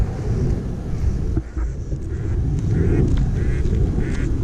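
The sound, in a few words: ducks quacking while chased by a woman and a dog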